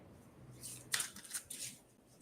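A deck of playing cards is shuffled up close, a short riffle followed by a few quick flutters and taps, quiet and alone.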